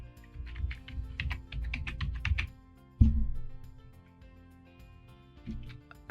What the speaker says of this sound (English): type in the name of the plugin that you're looking for